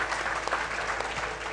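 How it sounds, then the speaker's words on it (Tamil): An audience at a celebratory gathering claps together in a brief, steady burst of dense applause, moderately close and without talk. "எல்லோரும் நல்லா கைத்தட்டுங்க."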